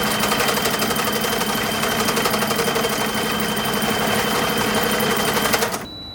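A sewing machine runs steadily, stitching through three layers of a toddler's summer hat brim (brim, lining and buckram), a loud continuous mechanical whir with rapid needle rhythm that cuts off abruptly near the end.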